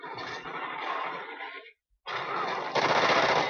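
Rapid automatic gunfire from a Call of Duty: Ghosts multiplayer match: two dense, loud bursts of weapon fire separated by a brief silence, the second burst heavier toward the end.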